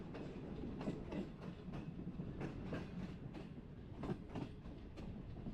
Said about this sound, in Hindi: 2 घंटा 10 minute late green line Rawalpindi पहुंच गई है।